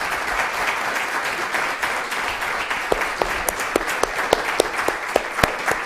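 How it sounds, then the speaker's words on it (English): An audience at an astronomy talk applauds with dense, steady clapping, and a few sharper individual claps stand out toward the end. "Let's give Nolan one more hand of applause."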